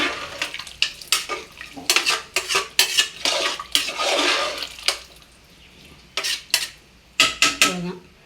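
Clanking metal pot and lid handled in a kitchen while cooking vegetable biryani with rice and lemon, a run of loud close clatters and scrapes, with brief pauses between bursts.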